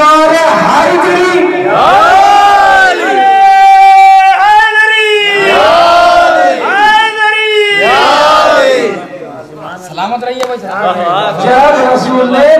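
Large crowd at a religious lecture chanting the Nara-e-Haidari slogan, loud call-and-response roars in repeated swelling waves, the chorus rising and dropping, with shouts overlapping near the end.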